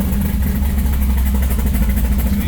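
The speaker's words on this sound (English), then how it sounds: "this is my new exhaust system, and it's pointing out the side, so it's got a little bit different sound to it." A Pro Street Chevelle engine runs steadily through a new side-exit exhaust, giving a loud, close, continuous low rumble that holds an even idle with no clear revs and no talk over it.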